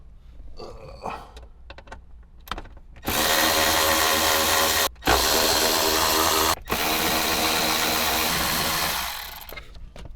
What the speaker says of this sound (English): we're gonna remove these two 10mm bolts on either side